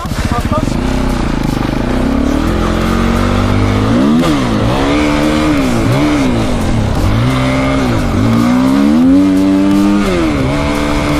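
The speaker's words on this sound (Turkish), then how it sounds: "Şu ver de bir dört zamanlıyı ben bir deneyeyim." A four-stroke enduro motorcycle revs hard and loud close by on an off-road training ride, its engine pitch sweeping up and down repeatedly through gear changes, with a rider talking over it.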